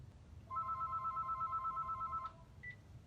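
A phone rings indoors at a craft table with a single steady electronic ring that lasts about two seconds and is followed by a short beep, clear over a low background hum with no speech.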